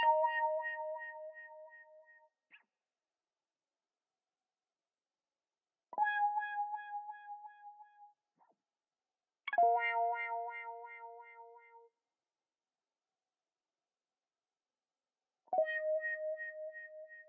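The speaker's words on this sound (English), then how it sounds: "I've put like this ghost delay on it. It just gives it a nice effect." Four separate synth-like tones with decaying, echoing tails, each ringing out a couple of seconds before silence; sparse, spacey delay and reverb texture.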